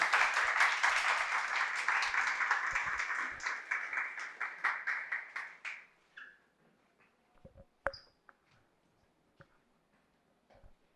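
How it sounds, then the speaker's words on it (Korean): A lecture-hall audience at a police academy admissions briefing applauds to welcome a professor, with dense loud clapping for about six seconds that thins into a few scattered claps and fades to near silence. "자, 큰 박수로 한번 맞아주십시오."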